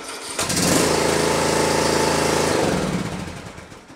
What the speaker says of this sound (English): And I see it hesitated there, but it was just enough to get it started